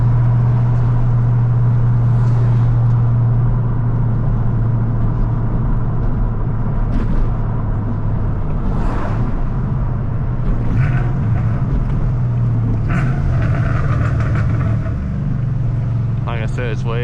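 An untuned Ford Mustang GT engine roars loudly from inside the car, a deep steady drone with rising revs and gear changes, someone talking over it at moments.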